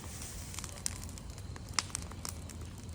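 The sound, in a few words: bonfire crackling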